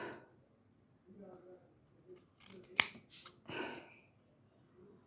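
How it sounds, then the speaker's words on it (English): Scissors cut through Christmas ornament material in several quiet, close snips, one sharper clip standing out, with a person speaking faintly between cuts. "Let me go ahead and cut a bunch of this off."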